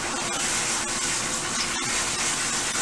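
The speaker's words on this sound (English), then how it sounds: "and I just rinse." Water runs steadily while shampooed mixed-texture hair is rinsed, a continuous loud splashing gush with no pauses.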